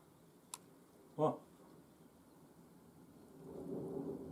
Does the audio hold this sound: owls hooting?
no